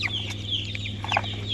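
A fighting rooster gives a few short, soft clucks over a low steady hum.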